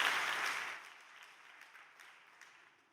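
An audience applauds at a religious gathering. The clapping starts strong and fades gradually over a few seconds until only scattered claps remain.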